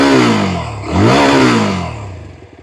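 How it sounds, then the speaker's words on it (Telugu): A Yezdi Scrambler 350 motorcycle's single-cylinder engine revs close by, its loud drone swelling into a sharp rise in pitch, then settling back down. "ఫ్రీ రేవింగ్ ఇంజిన్ అంటే ఇప్పుడు ఈ కటార్ ఇంజిన్ ఇంకా ఫైన్ ట్యూన్ చేయబడింది"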